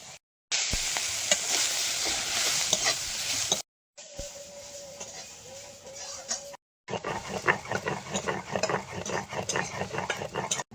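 Khaira fish sizzles loudly while it fries in a pan and is stirred with clinks of a utensil, in several bursts separated by short silent gaps.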